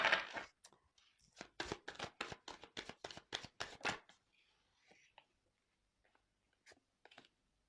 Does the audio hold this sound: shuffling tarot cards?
yes